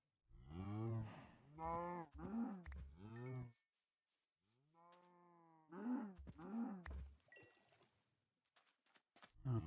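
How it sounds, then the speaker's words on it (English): Cows in Minecraft give a series of drawn-out, resonant game moos, several calls in quick succession, then a pause and a higher, bending call, followed by more moos and a few faint clicks. "Oh, no, we got some more cows over there"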